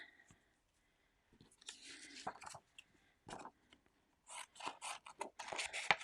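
Paper craft shapes being cut out with scissors, with bursts of snipping and rustling separated by pauses, fairly close and moderately loud, with no talk.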